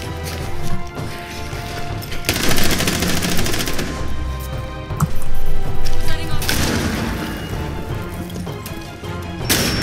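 Gunfire from a Rainbow Six Siege match comes in loud, dense bursts of rapid shots with crashing impacts, heavy around a few seconds in and again near the middle, over constant game noise.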